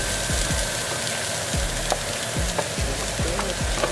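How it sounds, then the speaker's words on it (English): Red and green cabbage with ginger, celery and minced garlic frying in a pan, a loud continuous sizzle broken by repeated scraping stirs and clicks of a utensil against the pan, close up with no talking. "we're gonna go ahead and stir this constantly for a solid 2 to 3 minutes"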